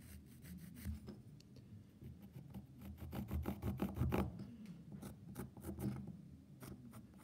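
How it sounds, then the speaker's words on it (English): Pencil marking lines across a piece of wood for a corner halving joint, producing a string of quick scratchy strokes with small taps and handling noises, close and fairly quiet. "take your pencil."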